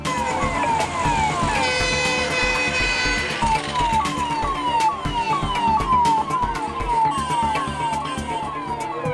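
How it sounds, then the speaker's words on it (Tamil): An ambulance siren approaches from behind on a road during a tanker-lorry fire-safety demonstration, wailing in repeated rising and falling sweeps for about nine seconds over a rumbling traffic bed, loud and continuous. "பின்னாடி ஆம்புலன்ஸ் வந்து"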